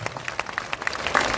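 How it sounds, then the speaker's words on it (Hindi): Crowd clapping for Manoj Bharti at a Bihar political rally, a brief burst of scattered claps building toward louder, denser applause. "एक बार मनोज भारती जी के लिए करतल ध्वनि से,"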